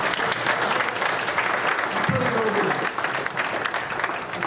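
A roomful of people breaks into loud, sustained applause, dense clapping holding steady throughout with a few voices and crowd noise mixed underneath.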